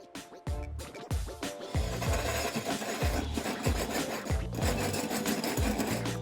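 A hole saw cutting through an exterior wall for a dryer vent grinds steadily, with repeated rhythmic bursts of rasping bite roughly every half second that hold loud and close throughout.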